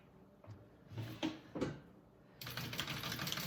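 A sewing machine top-stitching a Duffy bag, running in short bursts with pauses before a steadier closing run, close and fairly quiet, with no voices.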